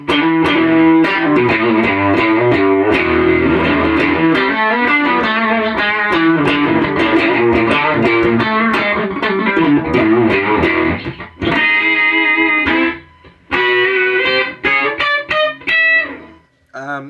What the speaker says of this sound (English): I have over here an old 80s Randall amp that sounds like this.